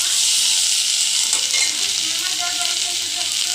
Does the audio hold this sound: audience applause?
no